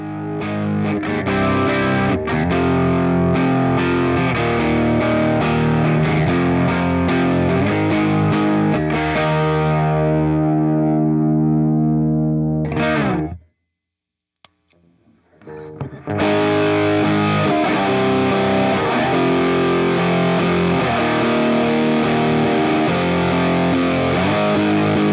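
An electric guitar through a Rat distortion pedal plays loud, saturated chords and riffs, cuts to near silence for a couple of seconds, then comes back in just as heavy.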